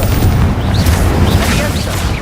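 Confringo spell blast from Hogwarts Legacy, a dense booming explosive burst with crackling debris, very loud and close, a voice briefly mixed in.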